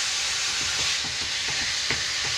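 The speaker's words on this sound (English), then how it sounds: "We're going to cook this ground beef" Seasoned ground beef sizzles in a hot pan over a gas flame, a steady close hiss and crackle with faint irregular pops, no voices.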